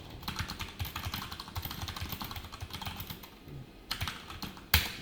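Rapid, steady keystrokes on a computer keyboard while JavaScript code is written, close and continuous with a few louder key hits near the end.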